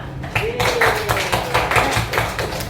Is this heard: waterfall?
no